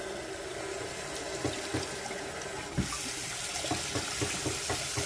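Steady rush of water running from a tap, with a few small knocks and clinks over the flow.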